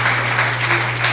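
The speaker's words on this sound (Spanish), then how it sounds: "Démosle un aplauso al Señor, por favor, por la vida de este siervo" Congregation applauding at a church service, a steady dense wash of clapping filling the space with a low steady hum beneath it.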